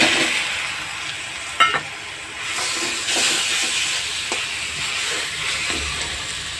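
Taro leaves fry with grated coconut in a pan, giving a steady loud sizzle and hiss broken by a few sharp stirring clatters.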